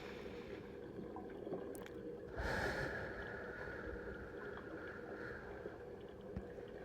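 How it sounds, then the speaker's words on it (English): A slow, steady inhale, close and soft against a faint background, swelling briefly partway through during a guided mermaid-themed relaxation breathing exercise. "So let's take a deep breath in."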